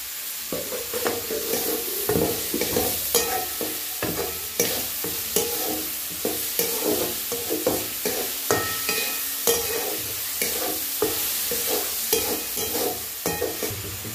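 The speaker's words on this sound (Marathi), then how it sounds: "कांदा चांगला लाल होऊ द्यायचा आहे।" Onions fry in a pan, salted to taste, under a continuous sizzle broken by regular scraping strokes of a spoon stirring through them, close and without talk.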